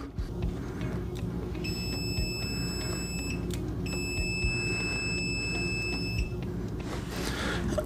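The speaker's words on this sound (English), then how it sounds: "74 decibels, maximum output in continuity" A TESMEN TSM-192 multimeter sounds its continuity beep as two sustained, piercing electronic tones, each lasting a couple of seconds with a short gap between them, over steady background noise and with no talk.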